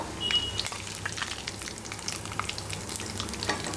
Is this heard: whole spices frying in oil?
yes